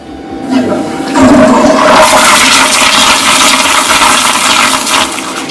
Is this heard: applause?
no